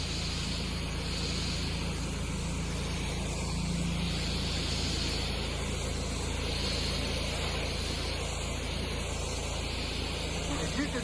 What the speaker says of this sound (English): So here's your stock 15-degree spray tip.